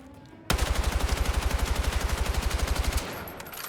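Automatic rifle fire in Battlefield 6, aimed down sights at a wall: a sudden, loud, rapid burst of evenly spaced shots lasting about two and a half seconds, then a short ringing tail.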